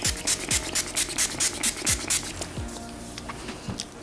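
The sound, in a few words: Maybelline Master Fix setting spray sprayed on face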